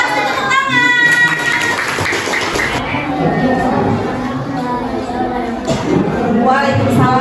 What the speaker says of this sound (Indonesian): Betul, pasti tepuk tangan.